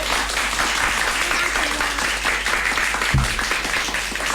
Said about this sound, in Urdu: یہ تالیاں بہت کم ہے